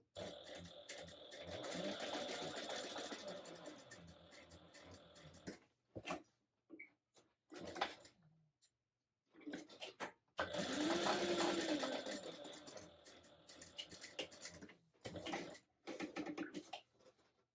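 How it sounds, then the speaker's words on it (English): A sewing machine topstitches down the long folded edges of fabric in two sustained runs separated by short stops and light handling sounds, close and clear with no voices. "you can top stitch 1/8 of an inch away down each long edge."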